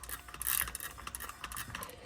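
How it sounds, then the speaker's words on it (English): A hand spray bottle mists warm water in short bursts, each with a brief hiss and the mechanical click of the trigger, close up and without speech. "I've got the spray bottle full, and it is time to spray"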